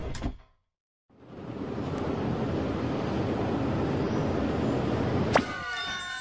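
After a short silence, a subway train's steady roar builds and holds, ending with a sharp clang and a high squeal of wheels.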